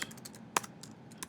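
Typing on a computer keyboard in a firewall lab, a quick irregular run of close, light key clicks with one sharper tap, no voice.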